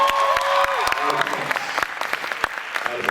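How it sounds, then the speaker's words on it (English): A comedy show audience claps for parents, a short burst of scattered applause with distinct individual claps and crowd noise as it tapers off, with a voice briefly heard at the start. "let's give a round of applause for the parents, man"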